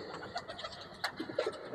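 Kentong pigeons cooing, soft throaty coos and bird calls repeating irregularly over a busy background of faint rustling and ambient noise.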